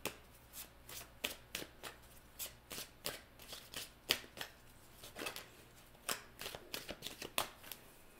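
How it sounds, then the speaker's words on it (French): Tarot cards being shuffled by hand, a quiet run of crisp riffles and flicks repeating irregularly, close and alone with no talk. "je vais sortir des cartes pour le potentiel"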